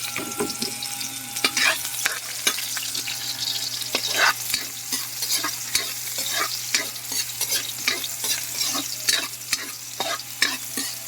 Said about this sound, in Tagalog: Gisahin lang natin yan hanggang sa pumula